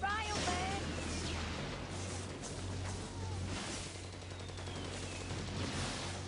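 Mortar blasts and rapid gunfire in the video game inFAMOUS 2, dense bursts of shots and explosions layered over a constant low hum, moderately loud, with game dialogue in between.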